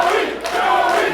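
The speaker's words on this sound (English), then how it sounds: "Joey Ryan getting the crowd on his side early." A wrestling crowd at an indie main event cheers and roars in a loud, continuous wash of voices, with a brief dip in the middle before it swells again.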